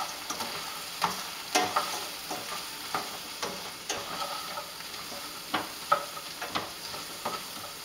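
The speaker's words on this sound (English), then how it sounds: "I want to kind of roast this pasta for flavor." Pasta toasting in butter in a hot pan on high heat, a soft continuous sizzle broken by frequent sharp clicks and scrapes of stirring at an irregular pace.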